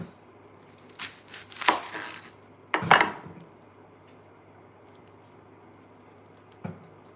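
A knife chops through onion ends on a cutting board, giving a few sharp crunchy cuts and knocks clustered early, then a single faint tap after a long pause, close by with no talking.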